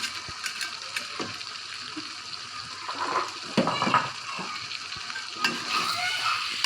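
Jengkol sambal with anchovies is stirred in a pan, giving faint, soft sizzling and a few scraping, clattering strokes of the spatula at a low level.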